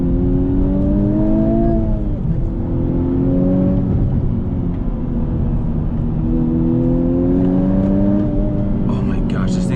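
A 2020 Honda Civic Type R accelerates hard in second gear, the engine note rising steadily in pitch through two loud pulls as heard from inside the cabin, with a voice over it.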